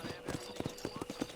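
A horse galloping in Red Dead Redemption on PS5: rapid, rhythmic hoof clip-clops in quick clusters, faint and brief, with game voices underneath.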